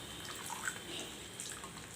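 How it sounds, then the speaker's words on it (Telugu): Hot water poured into a simmering paneer kofta curry gives a soft, steady wash of liquid, faint and continuous for about two seconds, with no talking. "ఇప్పుడు దీంట్లో వేడి నీళ్ళు వేసాను."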